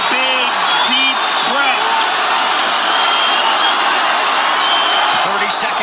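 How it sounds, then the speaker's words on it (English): A packed arena crowd roars and whoops at the UFC 229 fight between Khabib and McGregor, a loud continuous swell of cheering with a commentator talking over it. "Crowd goes bananas as McGregor gets upright"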